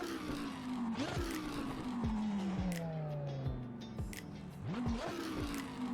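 A racing car engine in Assetto Corsa EVO revs and roars through repeated gear shifts, pitch climbing and dropping sharply, loud and continuous with tire squeal edges.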